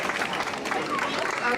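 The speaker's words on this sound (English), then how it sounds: "Let's give them another round of applause." Audience at an anniversary celebration giving a round of applause, a brief, steady patter of many hands mixed with voices.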